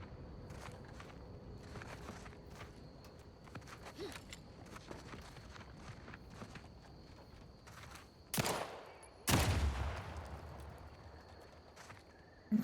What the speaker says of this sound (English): I'll just shoot the mines